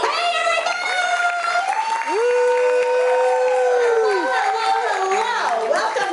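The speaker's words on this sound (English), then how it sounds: "how about a nice round of applause for the host of today's show" An audience at a horror make-up show at Universal Studios Florida applauds the host, with steady clapping beneath loud whoops and cheering voices.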